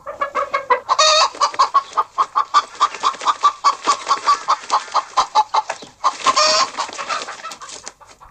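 A hen clucks loudly and rapidly in an agitated, fast rhythm, with two louder squawking bursts breaking the chatter.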